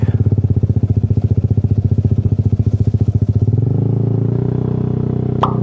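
A Kymco Xciting 400 scooter engine chugs loudly and rhythmically close by as it rides over a rough muddy mountain trail, then settles into a smoother drone, with a brief squeak at the end.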